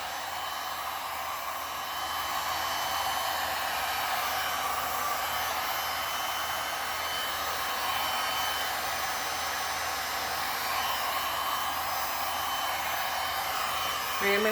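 A heat gun blows a steady, even airy roar over a resin pour on tile, continuous and close throughout.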